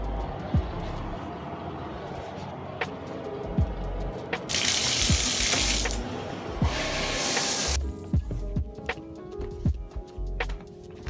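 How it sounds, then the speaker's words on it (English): Indoor shower spray running in a steady broadband rush for several seconds, cutting off and on, with sparse clicks and knocks around it and no talk. "I'm actually going to take a shower first"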